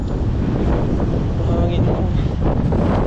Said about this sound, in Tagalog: Mahangin mo.